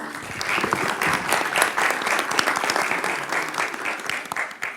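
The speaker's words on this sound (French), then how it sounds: "le professeur Aubertin Leheudre qui mérite pleinement vos applaudissements" Audience applause for a lecture at a seminar, steady dense clapping from many hands in a hall, sustained for several seconds with a slight swell and fade.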